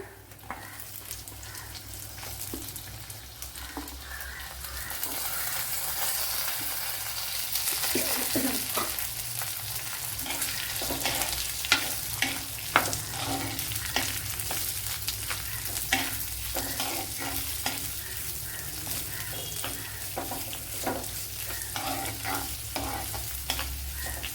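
Sliced onion sautéing with curry leaves and salt in a pan for carrot masala curry, giving a continuous moderate sizzle over a long stretch, punctuated by light clinks and scrapes of stirring.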